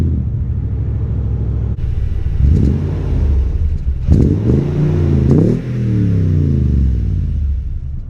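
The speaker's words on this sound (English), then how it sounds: "we're out here driving the Pro now" 2020 Toyota Tundra TRD Pro pickup truck driving, a steady loud engine rumble with road noise that rises and swells in pitch as the truck accelerates, continuous throughout with no voices.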